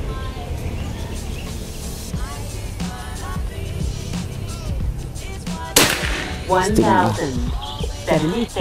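A Predator Tactical PCP air rifle with a folding stock fires a single shot, a sudden sharp crack midway, outdoors with birds chirping and faint voices around it.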